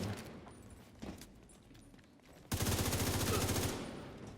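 Gunfire in The Division 2 video game: a few scattered shots, then a loud sustained automatic burst lasting about a second, close and alone.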